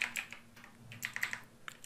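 Typing code on a computer keyboard for a Power BI query, with quick, clustered key taps in short bursts, close and fairly quiet, no talking.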